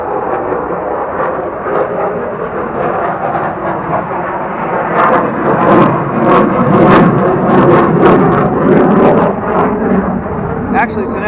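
A twin-engine F-15 fighter jet passing overhead, a broad loud roar swelling in the middle and easing off, with someone talking over it.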